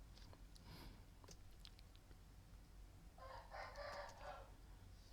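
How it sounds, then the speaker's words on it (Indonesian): A rooster crows from next door in a single drawn-out call toward the end, clear over a steady low room hum and faint clicks. "ada ayam di sebelah"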